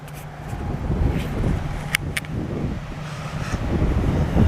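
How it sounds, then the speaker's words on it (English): Gusty wind blowing outdoors across a field, buffeting the microphone with a steady low rumble that swells and eases, and a couple of brief sharp knocks, no voices. "it's a little bit windy today and hopefully it won't get too windy"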